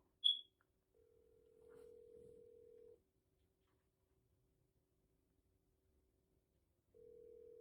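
A telephone call on a line, with a brief beep followed by two long, steady ringback tones separated by a silent gap, clean and close with no talking.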